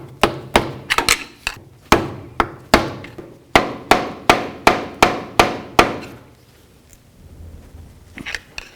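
Hammer knocking a seal loose from the differential while replacing the passenger-side CV axle on a 2002-2008 Dodge RAM 1500, a steady run of about fifteen sharp, close metallic blows that stops, followed by quiet with a faint tap or two.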